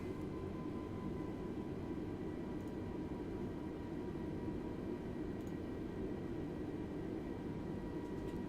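Lufthansa Airbus A320neo airliner taxiing out to the runway at Frankfurt, a steady low engine rumble with a faint high whine, heard from inside the cabin.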